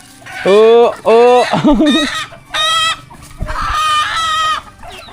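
Chickens cluck and squawk loudly and close by while being fed, with a rooster crowing among the repeated fowl calls and a person's voice in the background.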